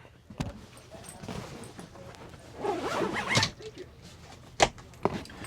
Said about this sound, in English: These zip up nicely and zip down nicely, and I'll just demonstrate that.